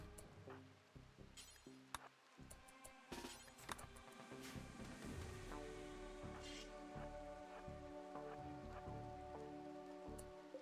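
Rain falling in RimWorld, a steady soft patter of drops with scattered sharper clicks and low rumbles from game action, faint and continuous throughout, no voices.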